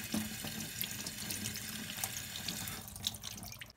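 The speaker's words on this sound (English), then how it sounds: "We wash all of the drumsticks." Running tap water splashes steadily into a sink as raw chicken drumsticks are washed for a Hungarian marinated roast chicken, a continuous close rush with small splashes and no talking.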